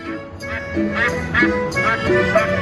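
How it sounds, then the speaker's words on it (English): A goose honks and quacks in a short run of bright, repeated calls, held up close alongside a woman, with faint voices underneath. "A honking goose."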